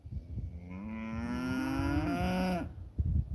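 Cattle on a homestead give one long, drawn-out moo with a rising and falling pitch, close and fairly loud, over low rumbling background noise.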